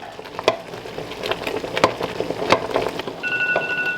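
Strawberry jam mixture bubbling at a full boil in a pot, with popping and sizzling bursts coming in irregular clusters, close and moderately loud, and a brief steady high beep near the end.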